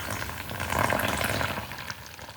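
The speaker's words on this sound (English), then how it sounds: "Add warm water, not too hot and not too cold. Pour it in slowly while you mix with a spatula." Warm water poured slowly into a sifted flour and salt mixture for roti dough, a soft continuous trickle and splash at close range with no talking.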